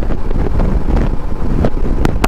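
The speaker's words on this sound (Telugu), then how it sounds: "గాలి మాత్రం హెవీగా ఉంది" Strong, gusty wind buffets the microphone near a moving vehicle on a clear day, a steady low roar with rough bursts throughout and no voices.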